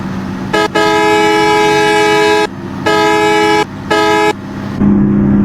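A train on the Padma Bridge sounds its horn in loud, harmonic blasts: a long one with a brief break near the start, then two shorter ones, over a steady low rumble of movement.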